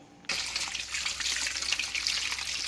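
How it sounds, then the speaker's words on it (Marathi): Running tap water gushes steadily into a sink as potatoes are washed, with faint knocks and splashes under the flow. "आता हे बटाटे आपण स्वच्छ आधी धुवून घेऊया."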